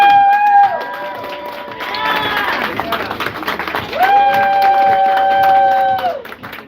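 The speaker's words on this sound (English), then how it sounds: "One more applause for Dr. Carol Watkins Ali." Applause and cheering rise from a live audience for a few seconds, with whoops and bright tones sounding over the clapping.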